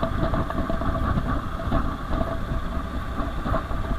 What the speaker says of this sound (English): I'm going to take a few camera shots of the Model T going by